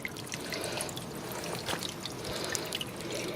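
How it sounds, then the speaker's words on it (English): Water sprays from small holes in a homemade bird bath fountain fed by a valve and elbow fitting, a steady close hiss of splashing, trickling streams running continuously with no pauses. "water shooting out of these holes"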